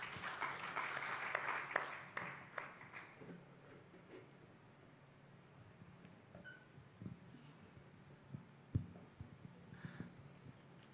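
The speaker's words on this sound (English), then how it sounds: "can you give the gentleman a round of applause" Audience applause at a broadcast and digital media convention panel in Africa, a dense burst of clapping at the start that quickly thins out and fades into scattered claps and room noise.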